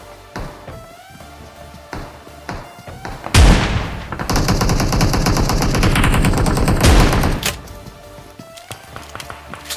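Gunfire in a PUBG Mobile duo match, an opening shot followed by loud sustained automatic bursts lasting several seconds, ending in a final sharp blast before quieter game ambience returns.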